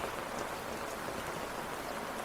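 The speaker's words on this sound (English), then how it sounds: "Get yourself out of the rain." Steady rain falls outside, a dense even hiss of drops on surfaces, moderately faint and continuous with no voices.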